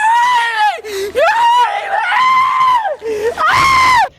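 A grandmother shrieks at full force in long, piercing sustained screams that rise, break briefly, and return, loud and close with no other sound competing.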